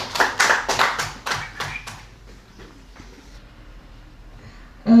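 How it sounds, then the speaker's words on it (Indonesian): A small group at an Indonesian teachers' positive-culture dissemination session claps hands in a short run of sharp, separate claps that taper off within two seconds, leaving a quiet room with faint murmurs before a sudden loud noise at the end. "Tepuk tangan untuk kita semua."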